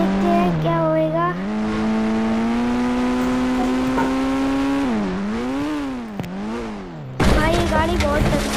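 A car speeds along in the mobile game Indian Bike Driving 3D while on a mega ramp challenge, its engine note holding a loud, steady harmonic whine that dips and rises with gear shifts, with a brief break before it surges back.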